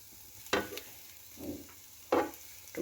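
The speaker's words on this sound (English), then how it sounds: "Very quick to cook in the electric pan because it's very wide." Eggplant cooking in a wide electric pan, with a soft steady sizzle broken by a few louder stirring scrapes and bursts.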